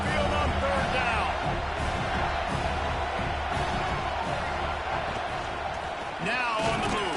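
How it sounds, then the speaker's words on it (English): The Tide crowd roars on third down at Saban Field in a college football video game, a dense, loud, sustained wash of crowd noise with swells of cheering, under commentary. "The Tide crowd roaring noise down onto Saban Field on third down"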